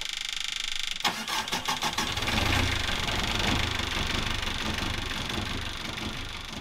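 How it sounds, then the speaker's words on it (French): A sailboat's inboard engine catches after a restart, with a brief cranking stutter followed by a steady, loud, slightly knocking idle that runs on continuously and close by. "notre moteur redémarre enfin"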